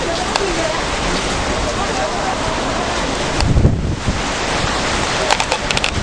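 Strong wind roaring across the microphone outdoors as clouds close in, a loud continuous broadband rush with gusty swells.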